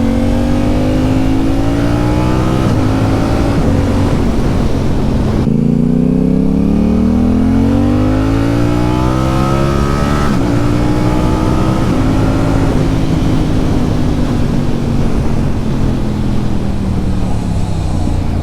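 A Yamaha R7 sport motorcycle engine revs hard while riding, rising and falling steadily through gear changes, loud and close with constant wind noise and no talking.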